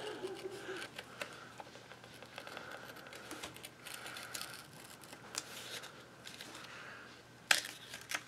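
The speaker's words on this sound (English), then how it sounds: "I'm just going to take this X-Acto knife and I'm going to cut right along" An X-Acto knife slicing along paper on a mini album, soft faint scratchy strokes under quiet background noise, with a sharper tick near the end.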